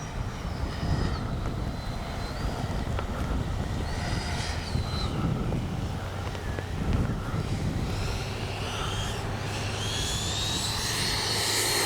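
A Freewing 90mm F-15C RC jet comes in to land, its ducted-fan whine rising and falling in pitch over steady wind rumble, continuous and moderately distant throughout.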